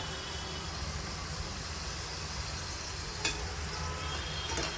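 Batches of kapanya, a sweet fried snack, deep-frying in oil that has grown a little too hot, giving a steady, even broadband sizzle throughout with a couple of faint clicks, no talking.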